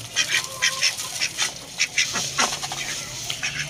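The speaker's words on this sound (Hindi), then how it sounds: "ये देखिए, बत्तखों को भी दाना डाल दिया, वो खाना भी शुरू हो गई हैं" Ducks quack repeatedly in short bursts, close by, while they feed on scattered grain, with several overlapping calls and chatter over a steady low background hum.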